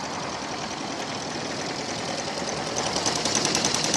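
A 2000 Toyota Avalon engine running lean and rough with a bog and no throttle response gives a steady, fairly quiet rumbling drone that grows slightly louder and busier near the end.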